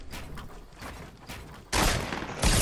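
Fortnite gunfire from another squad starts as faint, distant pops and then turns into two loud, close blasts of noise near the end.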